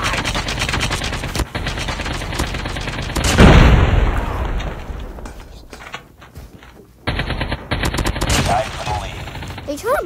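Automatic gunfire in a ranked multiplayer video game, loud rapid bursts of shots with a booming blast in the middle, broken by short pauses before firing resumes.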